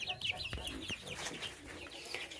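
A mixed barnyard flock of young chickens clucks and chirps softly in a steady, busy chatter, close by and faint, with scattered scratchy knocks underneath.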